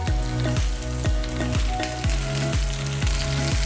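Pork belly sears in a hot pan with a steady, loud sizzle. A regular thumping beat runs alongside it, and no one speaks.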